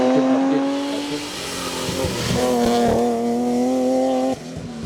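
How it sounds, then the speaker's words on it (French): A BMW M3 E36 Group N race car climbs the Mont-Dore hill climb course with a loud, sustained engine roar that rises and falls through gear changes. Brief rattling and tyre noise come near the middle. "Sébastien Lemaire s'impose en patron dans le groupe N au volant de sa BMW M3 E36"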